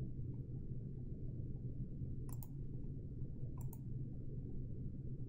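Two quick, faint double clicks from a computer mouse stand out against a low, steady hum while working in QuickBooks.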